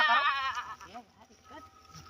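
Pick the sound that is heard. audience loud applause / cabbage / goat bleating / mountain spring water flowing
goat bleating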